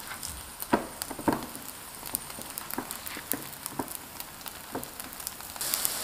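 Chive-filled pancakes pan-fry in a skillet, giving a soft, steady sizzle with scattered small pops and crackles, close by and fairly quiet, with no talking.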